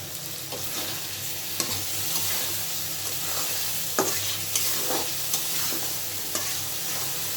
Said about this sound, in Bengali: আমি এখন আলু ভাজা আলুগুলো দিয়ে দিলাম